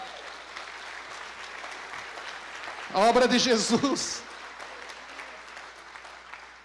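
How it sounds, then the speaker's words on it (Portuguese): A church congregation applauds during a pastor's sermon, a soft, steady patter of clapping that runs throughout, briefly overlaid by a louder voice near the middle. "pode aplaudir"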